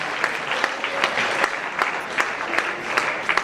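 An audience applauds students at a motivational seminar at Phoenix IIT Academy. Steady, fairly loud clapping from many hands carries on without a break, with no speech over it.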